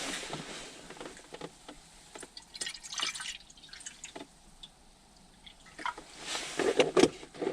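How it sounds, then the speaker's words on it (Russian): Water is poured at a quiet bushcraft shelter in winter, a faint, uneven run of small splashes and drips with scattered handling noises, nearby and fairly soft. "Так, наливаем воды."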